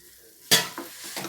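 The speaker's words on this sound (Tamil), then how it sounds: "நல்லா அப்படியே சுருள வதக்கிக்கோங்க" Ridge gourd with ground peanut and sesame powder is stir-fried in a pan. After a quiet start, a loud spatula scrape and sizzle burst comes in, then further short stirring strokes, with no voices.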